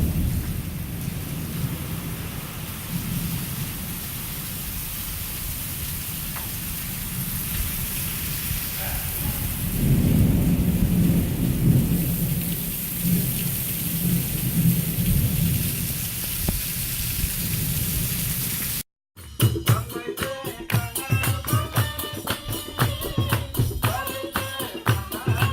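An afternoon thunderstorm in a mountain region brings heavy, constant rain and rolling thunder, loud and close throughout, broken by a brief cut near the end before the downpour resumes.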